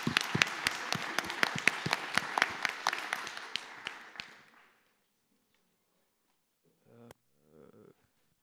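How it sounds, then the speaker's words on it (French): An audience applauds in a dense burst of clapping at a political interview event, fading out after about four seconds, followed by silence and a couple of brief faint noises. "Je vous demande de les applaudir"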